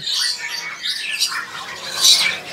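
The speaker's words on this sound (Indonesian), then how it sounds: "Jadi ternyata di sini juga ada yang namanya burung jalak Bali." Bali mynas (jalak Bali), a young pair among imported birds for sale, give repeated harsh squawks and chirps, fairly close and alone with no talk.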